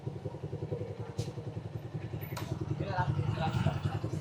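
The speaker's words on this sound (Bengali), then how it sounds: "বাইকটা তো অস্থির মডিফাই করছে।" A modified 4V motorcycle with an aftermarket exhaust runs with a steady, throbbing mid-pitched engine note that builds slightly throughout, under a voice talking.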